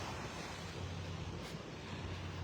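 Gentle ocean waves wash in at the water's edge on Vanderbilt Beach in North Naples, Florida, a steady faint surf wash mixed with wind noise on the microphone.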